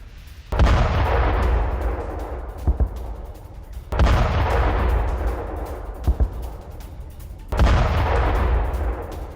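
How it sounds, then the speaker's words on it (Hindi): Heavy bombardment with artillery fire in Kirkuk, Iraq: three deep booming blasts spaced a few seconds apart, each decaying into a long rumble, with sharp smaller reports between them. "इराक के किरकुक में भीषण बमबारी।"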